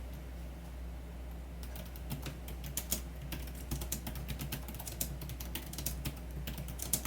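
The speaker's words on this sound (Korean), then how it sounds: "로지텍 K780 키보드는 로지텍 퍼펙트 스트로크 키 시스템이 적용돼서 저소음, 부드러운 타이핑이 특징이라고 하는데요" Typing on a Logitech K780 Bluetooth keyboard with low-noise Perfect Stroke keys: soft, rapid key clicks close by, starting sparse then settling into a steady quick rhythm over a low hum, with no talk.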